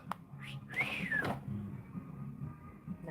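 A person whistles a rising-then-falling melodic phrase, clear and fairly close, lasting under a second amid quiet room tone with a low background hum.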